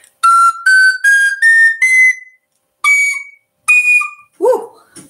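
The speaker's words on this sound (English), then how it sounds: "You can get another octave, so you can get two octaves out of a tin whistle. You just have to blow harder." A tin whistle blown hard in its high octave, loud piercing notes in a rising sequence of short blasts with brief gaps, then a few separate shrill tones.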